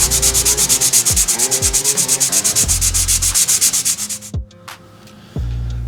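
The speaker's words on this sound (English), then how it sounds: "I'm going to start with a 600 grit sanding pad" Steady back-and-forth hand sanding with a 600 grit sanding pad, a rhythmic rasping scrub of about three strokes per second, close and loud, slowing and changing texture near the end.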